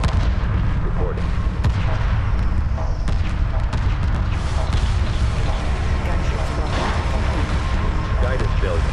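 Missile and cannon fire in the space strategy game Homeworld 2 Remastered, a dense, loud and continuous barrage of booming blasts and crackling impacts throughout, with radio-style unit chatter mixed in.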